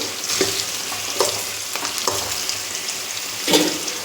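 Onion and radish fry in a pan for radish sambar, a steady close sizzle with a few louder scraping stirs spread through, no talking.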